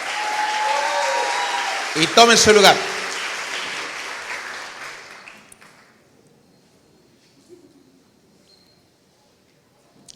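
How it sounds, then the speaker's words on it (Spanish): A church congregation claps and cheers during a Spanish-language service, a dense burst of applause lasting several seconds that fades out. Voices are heard over it briefly before quiet. "Denle una ofrenda de palmas al Señor con alegría"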